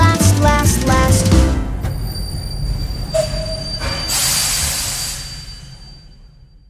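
A train rumbles and clatters, then metal wheels squeal with a sustained high screech that fades away as it passes.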